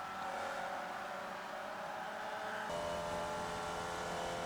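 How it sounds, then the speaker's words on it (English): Race car engine in the iRacing simulator, droning steadily at high revs before a gear change into fourth drops the pitch and the engine pulls again; loud and continuous throughout. "Kicks it up into 4th gear nice and early."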